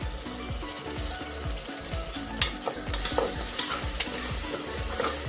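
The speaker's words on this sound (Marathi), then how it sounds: "छानपैकी अद्रक लसणाची पेस्ट परतून घ्यायची आपल्याला यामध्ये। टोमॅटोची पेस्ट घालून घ्यायची आहे।" Ginger-garlic paste and tomato paste sauté in hot oil for pav bhaji, a rough crackling sizzle under a quick repeated rhythm of a spoon scraping and knocking the pan, near and unaccompanied by voices.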